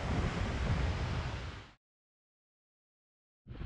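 Strong ocean wind at Quobba, Western Australia, buffets the microphone with a loud, roaring rush, cutting to silence midway before the gusty noise returns abruptly.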